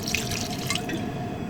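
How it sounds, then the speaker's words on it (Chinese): Cooking wine splashes briefly into a pot of lamb offal being blanched, a short close liquid pour with dripping over a steady background hum. "来点料酒"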